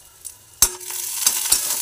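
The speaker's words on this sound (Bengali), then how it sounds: "পেঁয়াজটা একটু ভাজা ভাজা হয়ে গেছে" Onions fry in a little oil in a pan, a soft close sizzle that swells after a sharp clatter, with a few more spatula scrapes and clinks as they are stirred.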